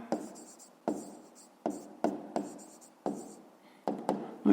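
Pen writing numbers on paper during a fifth-grade maths exercise, a series of short scratchy strokes in a loose rhythm, close and quiet.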